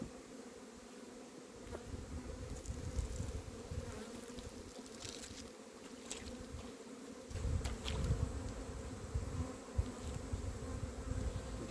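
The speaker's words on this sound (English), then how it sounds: "A few bees wandering around." Low, continuous buzzing of honey bees circling a nuc hive, swelling and fading as individual bees pass near, with no talking.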